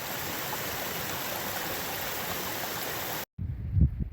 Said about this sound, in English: The trail is a river.